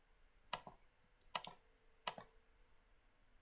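Control keys on a CNC milling machine are pressed in three quick, crisp bursts of clicks, close and quiet, with no talking.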